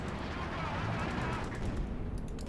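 Strafing-run gunfire in Company of Heroes 2 rolls on as a dense, continuous rumble of rapid shots and distant blasts, steady and loud throughout, with a few sharper cracks near the end.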